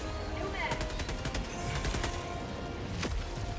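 Rapid gunfire in a video game aimed at flying targets, with bursts of shots crackling in quick succession over a steady noisy background and a murmur of talk.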